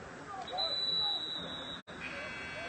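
A loud, sustained electronic buzzer ending the third quarter of a youth 10U football game blares for over a second over crowd murmur and an announcer's voice, then the din continues.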